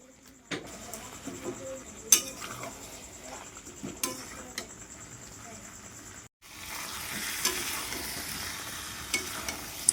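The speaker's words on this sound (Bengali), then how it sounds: "এইভাবে নেড়ে চেড়ে ঠিক ততক্ষণ কষিয়ে নেব" Mutton and onions stirred and fried in a wok for a curry with potatoes, giving steady sizzling with scraping stir strokes, close and moderately loud, with a brief pause partway through.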